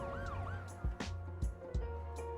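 Ambulance siren in the Cities Skylines 2 city-building game, a wailing two-tone sweep rising and falling over steady traffic hum, interrupted by a few sharp low thumps.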